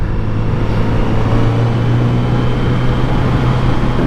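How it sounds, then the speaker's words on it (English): A 2022 Kawasaki Z900RS motorcycle being ridden on a winding mountain back road in Virginia, still being broken in, gives a steady, loud engine drone with wind rush throughout and no talk. "I'm riding today my 2022 Z900RS"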